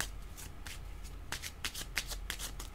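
Cards being shuffled for a card reading, a run of soft riffling bursts and flicks at close range with brief pauses between them, quiet and with no talk.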